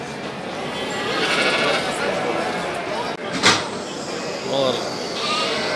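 Sheep bleat at a livestock bazaar in Turkistan, a few short calls rising over a steady crowd murmur while someone talks nearby.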